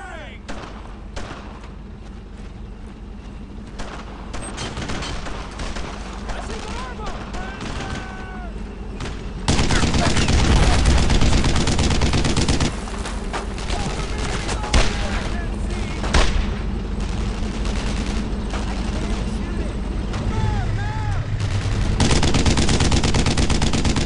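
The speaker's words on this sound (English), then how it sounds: "Don't stop firing!" Sustained gunfire from the World War II shooter Brothers in Arms: Road to Hill 30, with dense bursts of rifle and machine-gun fire and heavy blasts filling the whole stretch. It grows louder midway, with shouted voices in the mix.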